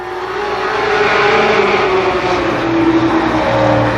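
Race cars at Columbus Motor Speedway roar past in a continuous loud engine drone, several cars overlapping as they rev and sweep by at close range.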